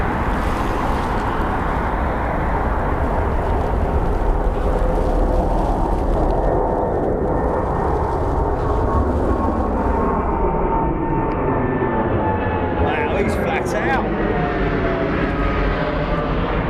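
A fixed-wing airliner passes by the 09R runway at London Heathrow Airport, a loud continuous engine roar with a clear Doppler pitch sweep as it goes by, sustained throughout with no talking.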